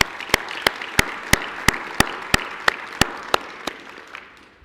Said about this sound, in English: will y'all help me recognize her by giving her a hand of applause